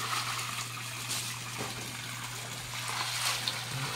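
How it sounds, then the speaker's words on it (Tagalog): A strong flow of water gushes steadily and continuously from a pipe or shower, a broad rushing hiss over a low steady hum, close and fairly loud. "Ang lakas po ng tubig,"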